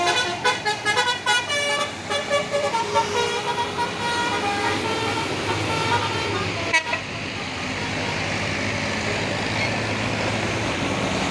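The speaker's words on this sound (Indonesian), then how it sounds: "dari belakang sudah ada telolet dari satu unit bus KPB" Rapid, loud telolet musical horn from a KPB (Kota Pinang Baru) bus sounds close by, a series of melodic toots over road noise that ends in a steady rumble of traffic.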